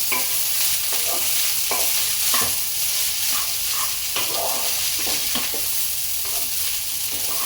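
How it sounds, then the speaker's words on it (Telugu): Spicy rice being stirred in a pan over high heat, with a steady sizzle and repeated scraping strokes of a spoon running through it, close and continuous, with no voices. "అన్నీ ఆ రైస్ వేసుకొని ఒకసారిగా మనం కలుపుకోవాలి. స్టవ్ హైలోనే పెట్టుకోండి."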